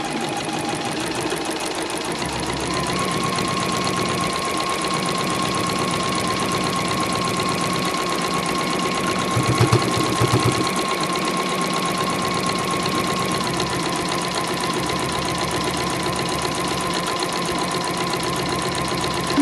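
A sewing machine runs a long, steady seam, back-stitching and stitching around the top of a fabric dust bag for espadrilles, its motor humming evenly and continuously with only slight shifts in pitch.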